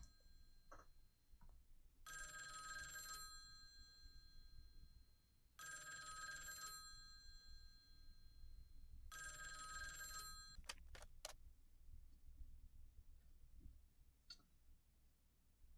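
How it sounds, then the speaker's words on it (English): A telephone rings in a video game set aboard the Milky Way Railroad Observatory train, three loud electronic ring bursts evenly spaced, followed by a few sharp clicks. "Phone's ringing."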